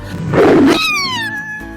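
A cat hisses and snarls in a close, loud, growling burst, then lets out a drawn-out falling yowl during a fight between a kitten and an older cat.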